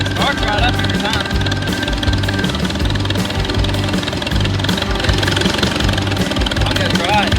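A Farmall Super A tractor engine, with a flywheel missing some gear teeth, runs loud and close with a steady chugging, knocking idle rhythm throughout.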